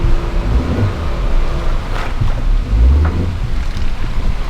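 A Suzuki Jimny dropping down into a creek on a rough 4WD track in the Watagans, Australia, with steady low engine rumble and water and wind noise throughout, fairly loud and continuous.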